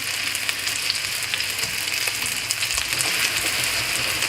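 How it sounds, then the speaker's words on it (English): Peaches frying in butter in a pan, giving a steady, dense sizzle that carries on without a break, close and fairly loud, with a few faint stirring taps and no voices. "peaches in there, going to cook and all that lovely butter"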